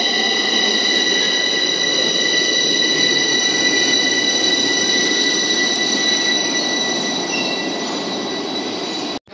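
Bucharest metro train at Obor station, a steady loud rumble with high-pitched tonal whine and wheel hiss running throughout, fading slightly toward the end with no voices.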